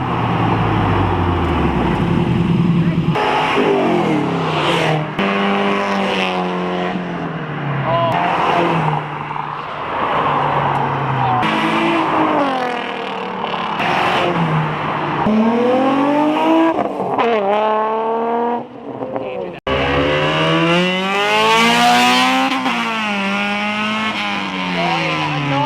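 Cars race at a Minneapolis street car meet, their engines revving loudly and sweeping up and down in pitch as they pass nearby, with crowd noise mixed in.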